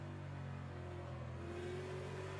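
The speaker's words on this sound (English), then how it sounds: "you can hear the engine just coming down to first gear" NASCAR race car engine in a racing video game, downshifting toward first gear on the Mid-Ohio circuit: a faint, steady mid-pitched engine drone with a slowly shifting tone, heard alone.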